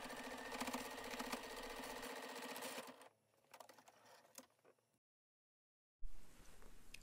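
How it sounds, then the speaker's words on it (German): Sewing machine running steadily as it stitches over the start of a seam on fabric and back-tacks to lock it, a dense motor whir that stops, followed by brief handling noises, silence and a short renewed burst. "Ein paar Stiche über den Anfang hinweg nähen und dann die Naht verriegeln."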